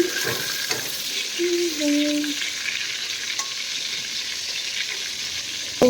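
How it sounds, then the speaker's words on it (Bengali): Round eggplant slices fry in hot oil with a continuous sizzle and occasional stirring clinks, a faint tonal beep rising briefly in the background. "এখানে বেগুন ভাজি হচ্ছে"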